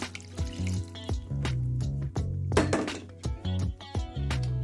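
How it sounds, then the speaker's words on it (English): Beef broth pours into a hamburger and rice casserole in a few short, gurgling splashes and glugs, close by, with a musical background underneath. "We're going to add our cream of mushroom soup, our 2 cups of beef broth."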